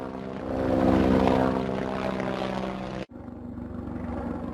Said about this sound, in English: I am a helicopter. I fly in the sky.